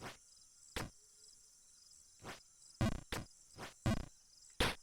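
Cricket chirps from the video game Jump King, a series of short, bright buzzing bursts at irregular intervals, fairly faint and heard alone.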